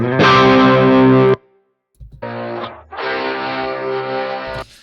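Electric guitar through an amp simulator with added gain and mid-range, dialed toward a classic hard-rock tone: a distorted sustained chord, a pause, then two more driven chord strums ringing out loudly on their own.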